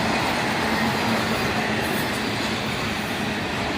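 A CSX freight train rolls past close by, a loud, steady roar of rail cars with faint wheel clatter and occasional squeal, no talking.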